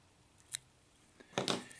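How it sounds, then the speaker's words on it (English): Scissors trimming thread while tying a triangle bug fly, with a single faint snip followed by a sharper double snip close by in a quiet room. "And we'll trim it. Trim the thread."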